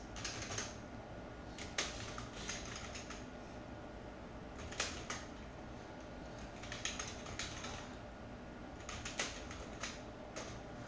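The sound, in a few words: typing on a computer keyboard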